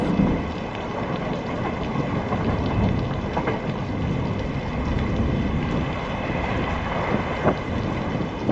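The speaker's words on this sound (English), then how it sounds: "It had started raining heavily since noon." Heavy rain pours continuously with low rumbling thunder underneath, a steady dense wash of water with occasional sharper drops.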